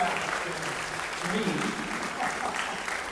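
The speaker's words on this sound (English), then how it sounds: "And a round of applause for Tim and for David Peckham" Applause from a memorial concert audience following performances, a steady bed of clapping with voices mixed in throughout.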